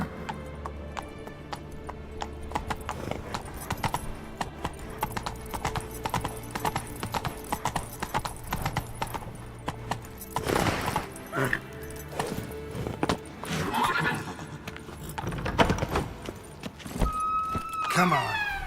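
A horse in The Witcher 3 video game gallops with steady, rapid clip-clop hoofbeats throughout, joined by scattered game effects and occasional voices.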